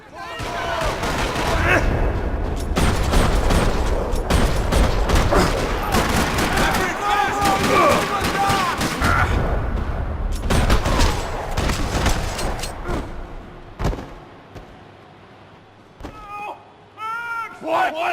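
Rattling gunfire fills a parking lot in the video game Max Payne 3: dense, continuous bursts of shots and booms, with shouted voices over them, before the shooting thins out near the end.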